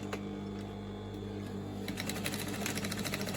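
Sewing machine running steadily as it stitches a large shopping bag, back tacking at the seam, the rapid needle whir close and continuous with a slightly busier burst of stitching toward the end.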